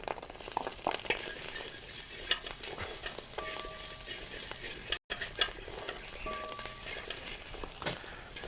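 Chicken and egg stir-frying for restaurant-style Chinese fried rice, steady loud sizzling with constant stirring and a brief dropout midway.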